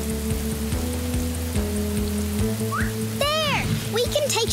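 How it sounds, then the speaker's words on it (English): Animated-show acid rain falling on a space planet, a steady dense patter under a rhythmic electronic music bed, with a short rising cartoon squeak and sweeping whistles near the end. "and Sol are built for this weather, but Dad, we need to get out of this acid rain"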